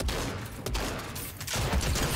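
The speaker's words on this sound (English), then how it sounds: "The silence SMG and silence AR are in all the modes." Silenced SMG and silenced AR fire in Fortnite, a steady dense run of muffled suppressed shots packed close together, continuous through the whole stretch with a brief dip partway.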